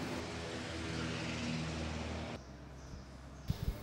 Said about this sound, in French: Ça, c'est un Sukhoi 31, c'est un avion de fabrication russe